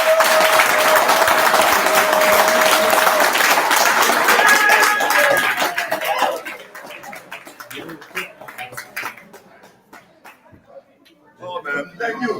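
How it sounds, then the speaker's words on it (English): A campaign team claps and applauds during Liberia's 2023 runoff election, a dense burst of handclaps that thins into scattered claps and quieter stretches, with voices talking underneath. "My team was clapping here."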